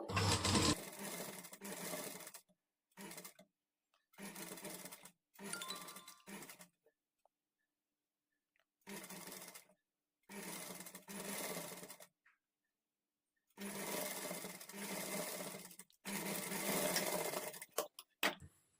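A sewing machine stitches blouse fabric in repeated bursts of rapid mechanical whirring, each run lasting a second or several seconds and separated by short silent pauses as the cloth is repositioned; no one speaks.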